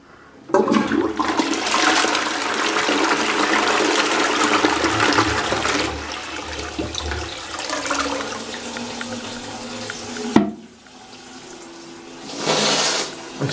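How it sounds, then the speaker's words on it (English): An Armitage Shanks Sandringham Universal toilet flushing: a loud close rush of water for several seconds, tapering into gurgling refill, then a sharp knock and a second brief surge. "Can't resist flushing it"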